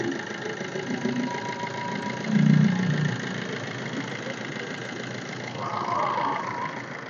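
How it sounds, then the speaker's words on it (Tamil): A used Maruti Suzuki Ertiga's petrol engine idles steadily with a low, even hum, rising slightly in loudness for a moment midway before settling back. "ஒரு பெட்ரோல் இன்ஜின் சவுண்டு தாங்க இருக்குது"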